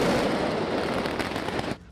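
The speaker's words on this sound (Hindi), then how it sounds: "इस दौरान जमकर आसमानी आतिशबाजी भी की गई।" Dense, continuous crackling and popping of fireworks set off in the sky at a public celebration, loud and unbroken, cutting off abruptly near the end.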